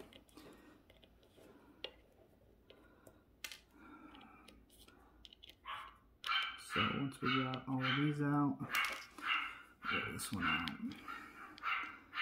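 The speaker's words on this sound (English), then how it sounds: "you might be able to hear my puppy in the background. She is barking" A puppy yips and barks in short bursts in the background while a person talks quietly nearby.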